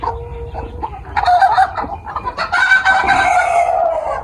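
Tiger chickens and local hens kept together in one pen, clucking and squawking up close, quiet at first and then a burst of overlapping loud calls that stays busy to the end.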